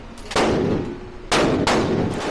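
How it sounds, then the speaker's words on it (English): Gunfire at a Las Vegas shooting range comes as loud, heavy reports, roughly three shots that boom and echo in an enclosed space, each decaying into a sustained roar. "There are many other people are shooting."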